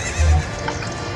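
A horse in Zelda: Ocarina of Time gives one short, loud whinny near the start, then fades into quiet game ambience.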